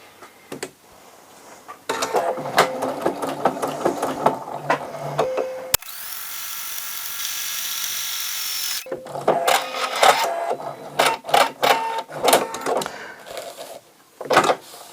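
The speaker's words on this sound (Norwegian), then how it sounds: "Det første vi skal gjøre nå, det er å sy sømmen her, og sømmen der." A sewing machine stitching the seams of a zippered square pouch or toiletry case, with several bursts of rapid mechanical whirring and clicking, one steady run in the middle, and handling noises between the passes.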